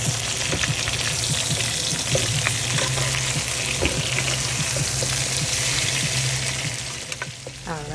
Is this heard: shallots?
yes